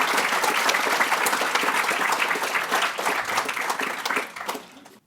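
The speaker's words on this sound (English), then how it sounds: "giving him a very warm round of applause to welcome him" Warm, sustained applause from an audience welcoming the writer Teju Cole, a thick wash of many clapping hands that holds strong for several seconds before fading away at the end.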